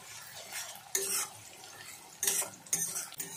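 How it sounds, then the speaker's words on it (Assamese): Onions frying in a pan for a jackfruit curry as a spatula stirs them, three or four close scraping bursts over a faint, low sizzle. "পিঁয়াজ ভাজি মোৰ হৈ গ'ল"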